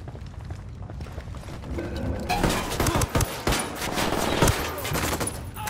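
Submachine gun fire during a Ghost Recon Wildlands firefight in Libertad Province: sustained rattling automatic bursts that swell after a quieter start, with sharp loud cracks standing out and faint voices underneath.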